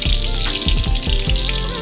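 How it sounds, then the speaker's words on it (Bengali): Pointed gourd pieces frying in hot soybean oil, a steady loud sizzle and bubbling with a few low thumps and clatters mixed in, no talking. "সয়াবিন তেলটা গরম হয়ে আসলে পটলের পিসগুলো আমি ভেজে নেব।"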